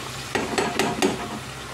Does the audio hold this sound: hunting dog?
no